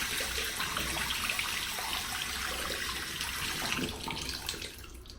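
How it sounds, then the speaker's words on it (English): Hot water runs steadily from a tap in a home sink, a continuous broad hiss and splash that holds even throughout and eases off slightly near the end, with no talking. "Hot water."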